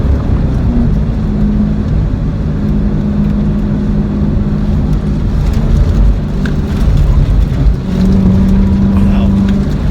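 A car driving a slalom course at the Bosch proving grounds, its engine droning steadily and loud with rumbling low tones throughout, rising in pitch near the end; no one speaks.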